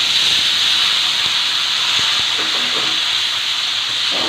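Minced chicken pieces hit a hot pan of spice paste for chicken Manchurian, giving a steady, loud broadband hiss and sizzle that holds evenly throughout with faint clinks underneath.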